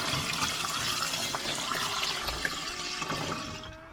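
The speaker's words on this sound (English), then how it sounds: "Put in the water." Water pours into a washing machine in a steady, soft rushing stream that fades toward the end, with no talking.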